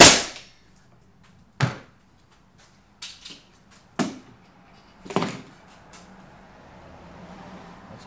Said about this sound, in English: So what I'm going to do is I'm going to nail in from here